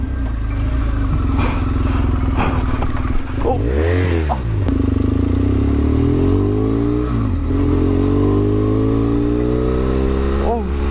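A motorbike ridden at night, its engine droning steadily close by with rising and falling revs and harmonic sweeps, including a sharp rev swell around the fourth second, with no voices over it.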